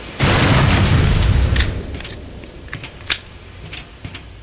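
A loud, close boom in the video game Black Mesa opens with a rumbling blast that fades over a second or so, followed by scattered faint clicks and pops.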